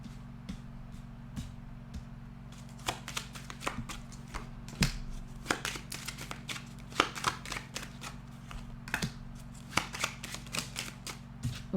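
Oracle cards shuffled and drawn during a full-moon guidance reading, giving a run of crisp riffling flicks and sharp card snaps over a steady low hum, close and fairly loud with no talking.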